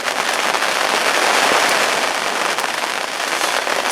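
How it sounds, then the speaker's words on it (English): Heavy rain at a lakeside spot at night, a loud, steady, dense hiss of downpour pattering on surfaces without pause. "As you can probably hear, that heavy rain is now here."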